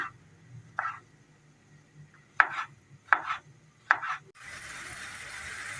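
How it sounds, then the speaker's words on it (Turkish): Knife chopping tomatoes finely on a board for a Turkish karnıyarık börek filling: a few sharp, separate cuts at irregular intervals, close and clear, followed by a steady hiss. "Domateslerimi de incecik kıyarak harcımı sürdürüyorum"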